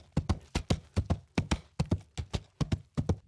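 Foley clip-clop standing in for horse hooves, made without a real horse: a brisk, even run of sharp, close knocks in paired beats, about three per second, loud and dry with no talk.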